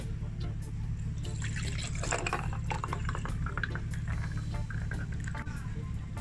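Celery juice pours into a glass as a steady liquid stream with splashing and trickling, fairly close, over a low background hum.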